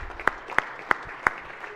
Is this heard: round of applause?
yes